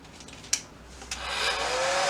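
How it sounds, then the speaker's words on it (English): A small hair dryer whirs on after a couple of clicks, settling into a steady, close airy hum that continues to the end. "I use a hair dryer, which was on sale because it's a portable hair dryer"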